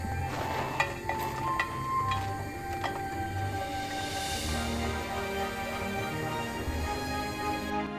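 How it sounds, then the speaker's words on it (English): Small cubes of white bread fry in olive oil in a pan, a soft steady sizzle with a few light scraping and tapping clicks early on, quiet and without talk. "And fry the bread with olive oil."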